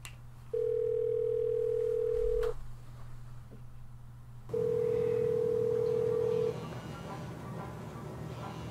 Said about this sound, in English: I'll just call him right now.